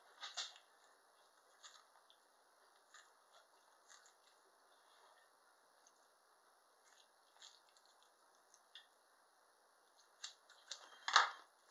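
Blunt scissors snipping through heart tissue during a dissection: faint, sparse crunchy cuts spread across a quiet stretch, with a louder cluster of snips near the end and no talking.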